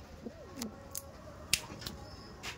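Breeding pigeons, Kalmadom and Chini Kaldom, give a few soft low coos in a quiet loft, interrupted by sharp brief clicks and rustles, close and faint with no speech.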